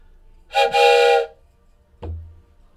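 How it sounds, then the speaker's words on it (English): A short train whistle effect plays once as a bright, steady harmonic blast of about three-quarters of a second, followed by a brief low thud; otherwise quiet with no talk. "A little train whistle."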